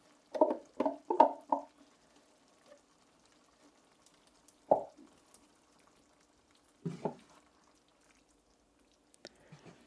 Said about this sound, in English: I'm really scraping up the pumpkin here.